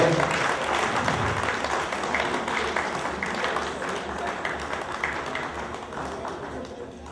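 An audience at a community cultural evening in the New York area applauds, with busy overlapping claps that taper slightly. Crowd murmur and scattered voices blend in underneath.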